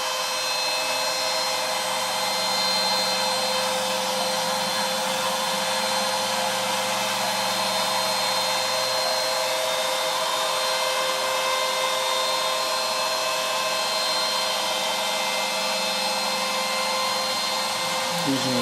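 A CNC router mills the border of a carved panel with a 1/4 inch ball nose bit, giving a steady high whine over a continuous motor hum, loud and unbroken throughout.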